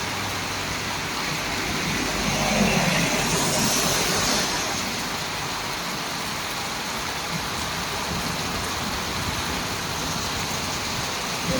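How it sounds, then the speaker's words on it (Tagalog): Steady, dense heavy rain pouring down as a continuous wash of noise in a rural village area, with a low rumble underneath that swells briefly near the start. "Pero malakas pa rin ang ulan."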